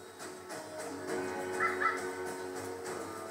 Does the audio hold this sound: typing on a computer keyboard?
no